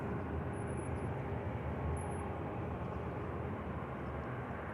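Passenger jet departing Manchester Airport on a flight to Budapest: a steady, loud broadband engine roar that holds evenly throughout, with no speech over it.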